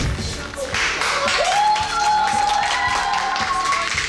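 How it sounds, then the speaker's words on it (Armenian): Applause from a studio audience at an Armenian TV talent show final, steady mass clapping with an electronic tone and musical sounds layered over it, continuous throughout. "Բարձր ծափահարությունը Յովարի։"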